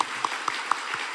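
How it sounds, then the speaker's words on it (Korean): A congregation applauds to welcome a new choir conductor and accompanist, a brief patter of many hands clapping, steady and fairly close, with no talking over it. "환영의 박수 한번 쳐드리겠습니다"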